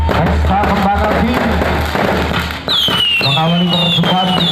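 A night fireworks display crackles and pops, with rising whistles near the end, loud and close, under overlapping voices.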